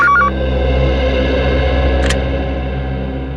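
A telephone keypad sounds short electronic dial-tone beeps, one brief cluster at the start and another burst a couple of seconds later, over a steady low hum.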